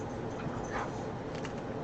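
A small puppy whimpers in soft, brief whines, faint and partly buried under a steady hiss of background noise.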